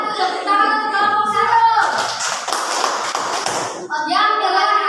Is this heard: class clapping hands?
yes